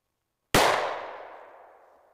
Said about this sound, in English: we're going to fire 200 grain cast lead bullets with 10 grains of unique, starting with the 4-inch revolver